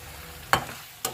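Chicken white karahi masala frying with cumin powder in a pan, a quiet low sizzle broken by a few brief stirring scrapes and clatters, close by with no talking.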